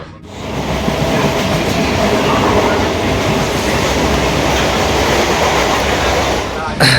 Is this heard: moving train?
yes